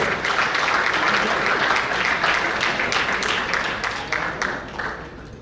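A large crowd at a cricket club awards banquet applauds steadily, dense continuous clapping that fills the whole stretch and eases slightly toward the end.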